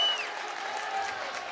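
A high school varsity boys basketball playoff crowd cheering and applauding, a steady roar of claps and shouts filling the gym with no break.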